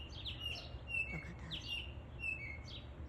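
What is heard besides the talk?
robin singing and chirping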